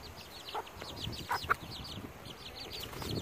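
Backyard chickens cluck and chirp while scratching for worms in the ground, with short repeated calls scattered over soft outdoor background noise and a couple of louder clucks near the middle.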